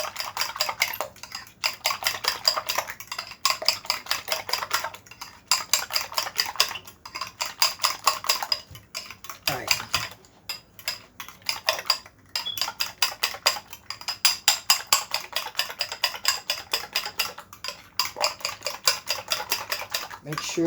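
A spoon stirs seasoned eggs in a pan, making steady, rapid metallic scraping and clinking. The scraping runs almost continuously and loud and close, with a few short pauses.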